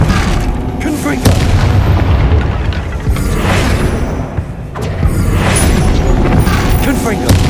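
Repeated Confringo fire spell blasts in Hogwarts Legacy boom loudly one after another, deep thumping bursts over a rumbling game soundscape with spiders around, a voice shouting the spell name between them.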